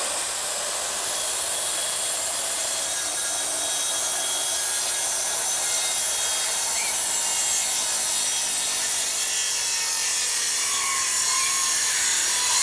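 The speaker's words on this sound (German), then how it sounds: "Wir sägen die Böcke mit durch, Schatzi." A saw cuts through wooden trestles in a steady, unbroken rasping drone, loud and close, continuing without pause throughout.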